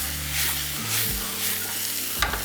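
Seasoned steaks for steak au poivre sear in a hot pan with a strong, steady sizzle and hiss, close up, ending in a few sharp clatters of the pan, no talking.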